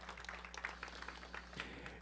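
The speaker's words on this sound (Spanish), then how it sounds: "Dale ese fuerte aplauso de gratitud al Señor." A congregation claps in church during a sermon, a faint, distant patter of steady applause over a low electrical hum.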